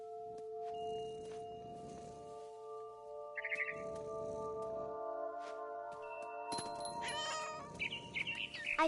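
In a video game, a cat gives a couple of short meows over steady electronic background tones, with brief chirps and rustling movement noises mixed in.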